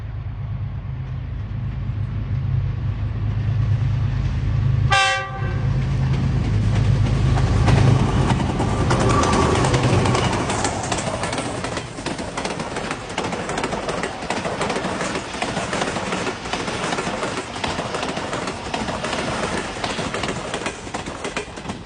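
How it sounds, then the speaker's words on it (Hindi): Pakistan Railways locomotive J20 4567 passes at speed, a horn blast followed by a loud rushing roar and clattering wheels that gradually fade over many seconds, with birds faintly audible and no talking. "J20 4567 आ रहा है मेरा फेवरेट लोकोमोटिव।"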